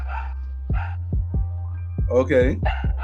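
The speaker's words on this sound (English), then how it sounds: "Yes, you hear the bark of my dog." A pet dog gives a few sharp, separate barks near a person on a call, and voices talk between and over the barks.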